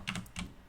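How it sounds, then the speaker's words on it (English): Two quick keystrokes tap on a computer keyboard, faint and close, in a brief burst with no voices. "I apologize about the keyboard."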